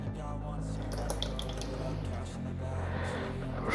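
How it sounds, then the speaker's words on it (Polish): Chip cooking water is poured from one pot into another, a steady, continuous splashing and trickling that stays close and fairly even throughout. "Wszystko ładnie z powrotem wpadło do drugiego garnka."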